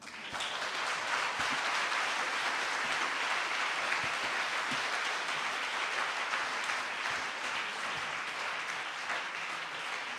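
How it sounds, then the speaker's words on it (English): Sustained applause from a live audience for a poet at a 5x15 event, a dense even wash of clapping that runs steadily for the whole stretch without pause. "Thank you for your kind applause."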